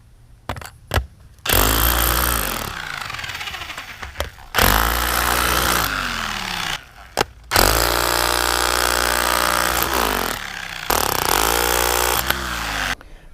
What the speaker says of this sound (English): Now I suppose the test will be when I try and jackhammer something,